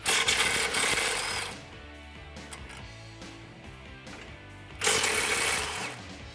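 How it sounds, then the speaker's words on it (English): A ratchet with an extension and 13 mm deep socket loosening exhaust isolator bolts over the sway bar of a 2018-2020 Mustang GT, two quick bursts of rapid clicking separated by a quieter pause. "grab an extension and a 13 millimeter deep socket, and what I like to do is go straight over the sway bar and remove those 2 bolts"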